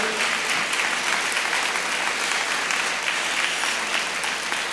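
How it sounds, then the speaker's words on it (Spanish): Sustained applause from a church congregation during a sermon, a thick, even wash of many hands clapping at close range throughout. "Aplaude al Señor Jesús, por favor."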